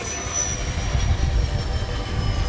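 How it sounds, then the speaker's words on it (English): A large FMS A-10 Warthog V2 RC jet with ducted-fan intakes passes at high throttle, a steady loud rushing roar with a thin high whine and turbulent low rumble, with no voices. "You can hear the intakes of the ducts hitting the air and then making like turbulence behind them."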